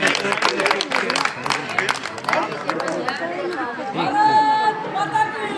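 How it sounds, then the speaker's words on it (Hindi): A crowd at an outdoor medical camp claps amid loud, steady chatter and babble, with scattered hand claps blending into the noisy hubbub throughout. "तालियां बजाओ भैया, साइड से भैया, साइड से।"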